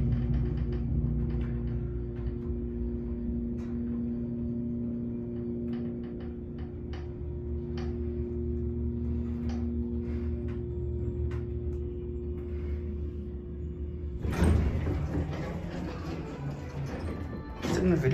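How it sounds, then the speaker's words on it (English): A Westinghouse elevator motor gives a low, steady hum with faint ticks, then a louder rushing clatter near the end. "Let's listen to the motor."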